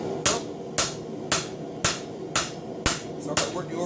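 A hammer strikes steel on an anvil while an herb chopper blade is forged, seven sharp ringing blows landing at a steady, roughly half-second rhythm, close and loud with no talk.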